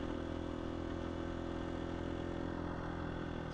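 A KTM 250 EXC-F twin cam dirt bike engine running steadily, a continuous buzzing drone held at an even pitch, fairly quiet and heard alone without speech.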